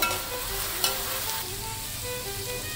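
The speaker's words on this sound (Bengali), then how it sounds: "তো আমার পেঁয়াজটা কিন্তু একটু ভাজা ভাজা হয়ে গেছে" Onion paste fries in a pan for a traditional country-chicken curry, giving a steady, close sizzle with one brief clatter early on and no talking.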